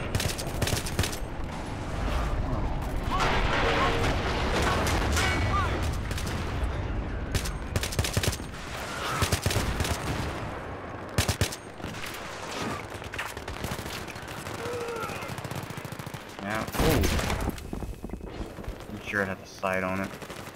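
Enemy troops firing in Battlefield 3 single-player: dense bursts of automatic gunfire and sharp individual shots, loud and close at times, stopping and starting across the scene, with a voice talking over parts of it.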